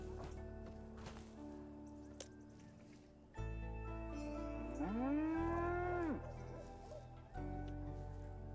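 A cow moos in a god-game colony simulation, one long, loud, drawn-out bellow rising and falling in the middle, set against steady game ambience and background tones.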